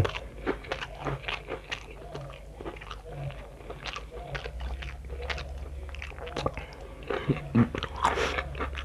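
Someone eats a meal of rice vermicelli and other dishes at the breaking of a fast, with close, repeated bites and crunchy chewing in an uneven rhythm and no talking.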